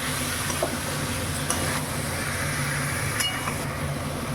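Potatoes and green peas fried with spices in a kadai for jalpai alur dom, giving a continuous sizzle with occasional light clinks of a spatula against the pan.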